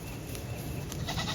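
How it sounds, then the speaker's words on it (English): A goat bleats close by in a homestead weed patch, one sustained, wavering cry set against a steady outdoor hum, with no talk. "The goat is still in there munching away."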